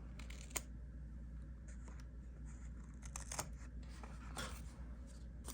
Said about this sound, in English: And we're gonna cut off the edges here.